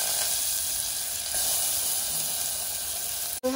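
Chopped curry leaves, a garlic clove and tomato hit hot ghee in a pan and give a bright, steady sizzle up close, with a few faint stirring sounds and a brief cut just before the end.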